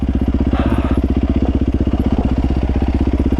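A dirt bike engine chugs at low revs while descending a steep hill, a loud, close, rapid even putter that barely rises in pitch, with no speech over it.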